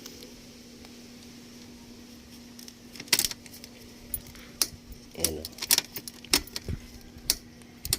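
Keys jangle and clink at an ignition switch in a Howo 380 dump truck, coming in a few sharp metallic bursts after a quiet stretch, with a brief word spoken nearby.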